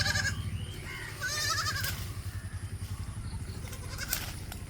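Goat kids bleat in repeated wavering calls near the listener, over a low rhythmic rumble like an idling engine.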